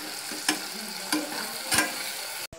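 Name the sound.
green chilli, ginger, garlic and curry leaves frying in pan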